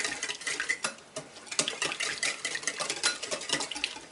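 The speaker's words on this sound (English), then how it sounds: "I'm going to give this a nice mix with my whisk" A whisk rattles quickly against a bowl while mixing eggs for cinnamon roll dough, producing a close, steady run of clicking, scraping strokes with no talking.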